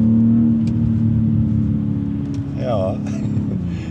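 A 2023 BMW X3 M40i engine drones steadily from inside the cabin while driving, its pitch shifting slightly near the end, with a voice talking over it throughout.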